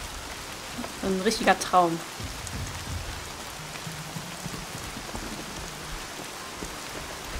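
Steady rain falls in the video game Horizon Zero Dawn at night, a soft continuous hiss throughout, with a short burst of speech near the start.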